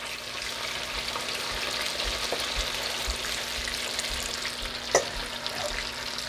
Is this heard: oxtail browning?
yes